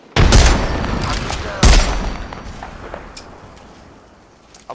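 Heavy automatic gunfire in the Apex Legends video game, two loud close bursts each followed by rattling decay, with fainter distant shots trailing off toward the end.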